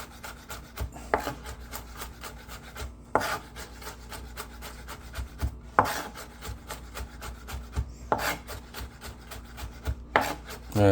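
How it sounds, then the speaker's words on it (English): Fresh garlic is chopped with a knife for a sauce. Steady close-up rubbing and scraping is punctuated by sharp knocks about every two seconds, with no talking. "I'm gonna give it a nice chop."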